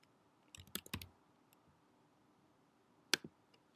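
A search term entered on a computer keyboard: two brief clusters of crisp, close keystrokes separated by a quiet pause, with no talking.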